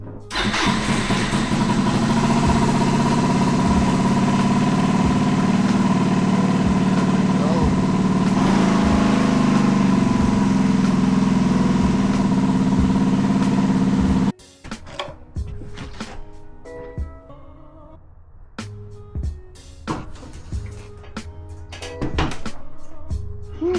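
A Yamaha Riva 125 scooter engine runs steadily and loudly for about fourteen seconds before it cuts out. Scattered clicks and mechanical knocks follow at close range.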